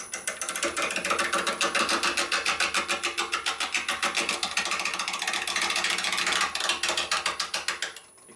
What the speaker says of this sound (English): Tip of the tool, trying to cut the wood.